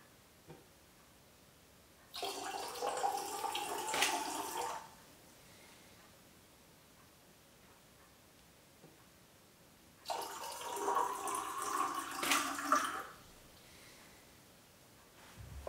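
Water pours into glassware during a glass photography shoot in two separate bursts of splashing, each lasting about two to three seconds, with quiet pauses between and no talk.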